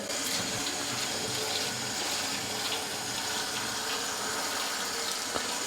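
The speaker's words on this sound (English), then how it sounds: "And you put them straight into cold water." Cold tap water runs steadily into a sink over freshly boiled eggs to stop them cooking, a continuous close hiss and splash that holds even throughout with no talking.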